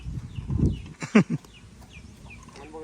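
Thai fighting roosters cluck and squawk nearby outdoors in a few short bursts, with faint chirping birds and low murmur in the background.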